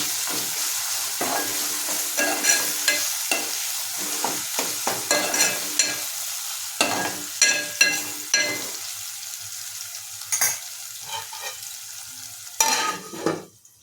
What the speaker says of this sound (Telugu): అల్లం వెల్లుల్లి పేస్ట్ పచ్చివాసన పోయేదాకా వేయించుకుంటే సరిపోద్ది.